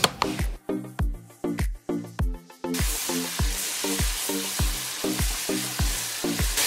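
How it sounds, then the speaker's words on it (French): Oil poured into a hot pot for jollof rice, breaking into a steady, crackling sizzle close up, with regular soft ticking clicks running through it and no talking. "Maintenant, je vais mettre dedans de l'huile."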